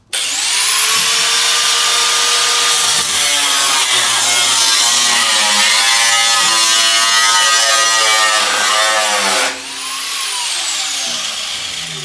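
An angle grinder scoring the underside of a school bus interior panel, a loud continuous high-pitched whine lasting about ten seconds, then cut off and briefly restarting at lower level.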